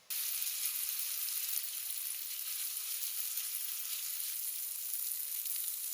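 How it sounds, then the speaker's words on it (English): Beef strips drop into hot oil and set off a loud, steady sizzle that starts abruptly and continues unbroken, close and alone. "Once the oil is hot, drop the meat in."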